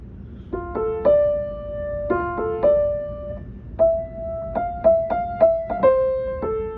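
Ocarina plays a melody from The Legend of Zelda: Ocarina of Time, with clear, pure sustained notes in quick repeated phrases. The melody is close and steady, and no voice is heard.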